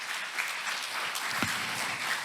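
A church congregation applauds during a worship service, producing steady, dense clapping that holds at an even level for the whole stretch without pause.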